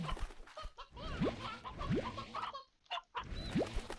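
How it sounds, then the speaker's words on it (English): Chickens cluck in the game Slime Rancher, a few short bird calls with rising chirps over busy game sounds and background noise, fairly close and moderately loud. "And we'll grab some of the chickens."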